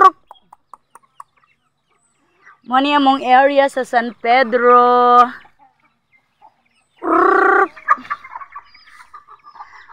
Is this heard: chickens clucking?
yes